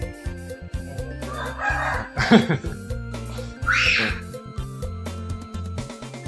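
Chickens cluck and a rooster crows amid busy background noise, with several calls rising over a steady hum, fairly near.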